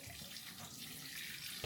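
Tap water runs steadily to moisten seed-starting soil, a continuous hissing splash that is close and fairly loud throughout the short stretch, with no talk over it.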